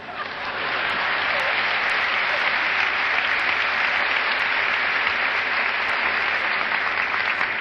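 Applause from a lecture audience swells in within the first second and then holds as a steady, dense wash of clapping through to the end.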